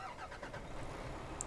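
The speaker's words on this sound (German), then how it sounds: "Wir werden jetzt einfach mal den Motor ans Anhören." MAN TGX 2010 truck engine in Euro Truck Simulator 2, a steady low rumble running at an even, fairly quiet level throughout, with no talk over it.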